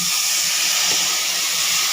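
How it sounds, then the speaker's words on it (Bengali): Water hits a hot pan of fried vegetables with potatoes and pointed gourd, giving a loud, steady steam hiss that runs without a break for the full two seconds and is heard alone. "ভাজা হয়ে গেছে, এবার জল দিয়ে দেবো।"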